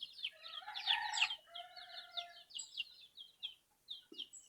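Native chicks in a new cage chirp and peep continuously, a busy overlapping chatter of high calls with one louder burst near the start.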